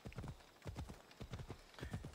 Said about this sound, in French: Oh, mon cheval.